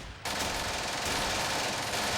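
Dense, continuous gunfire from the Steel Panthers wargame, a loud sustained roar of rapid shots starting abruptly after a brief quiet moment and running to the end without speech.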